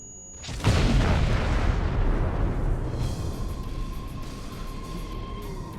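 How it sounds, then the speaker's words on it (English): An explosion in the PC game Star Trek Online hits suddenly as a loud, broad boom, then trails into a long rumbling roar that slowly fades while faint game sounds continue underneath. "Well, he got his explosion, that's for sure."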